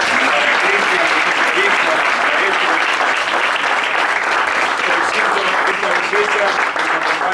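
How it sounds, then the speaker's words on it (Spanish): An audience at a community health program awards event gives sustained applause, dense and loud clapping that runs unbroken, with a voice faintly mixed in beneath it. "Les pido un aplauso también"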